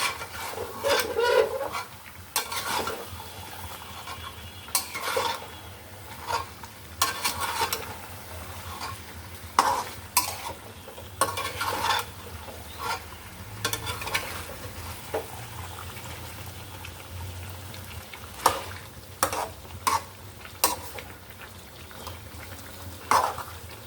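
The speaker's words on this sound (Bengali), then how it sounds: "মাংসটা আমি দিয়ে দিচ্ছি মাংসটা ভালো করে কষিয়ে নিতে হবে" Beef sautéing in a pan for a Bengali-style home cooked curry, with a spoon repeatedly scraping and knocking the pan in irregular strokes over a low, steady sizzle, close up and with no talk.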